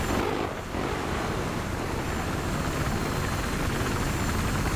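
Constant loud helicopter rotor drone from the video game Battlefield 3, a steady close whirring roar with no pauses and no voices.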